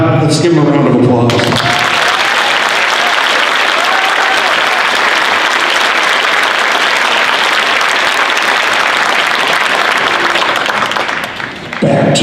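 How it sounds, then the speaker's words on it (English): A large high school concert crowd at a Band-O-Rama show claps loudly for the band directors, a thick sustained roar of applause that starts abruptly after a brief voice and fades at the end. "Let's give them a round of applause."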